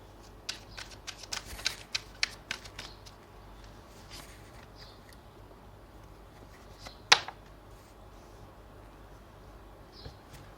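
Tarot cards being shuffled by hand at close range, a flurry of soft riffling and flicking bursts early on, then quieter rustling with one sharp snap-like slap in the middle, no talking.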